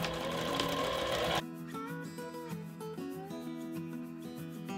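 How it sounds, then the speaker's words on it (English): A sewing machine runs a bag seam with a busy, bright whir, then the pitch drops into a steadier, lower mechanical drone, with no voices. "we're going to go ahead and sew that half an inch seam all the way down the other side"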